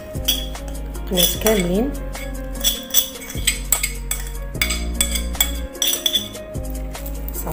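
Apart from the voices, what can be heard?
spreading tuna pieces over salad with cutlery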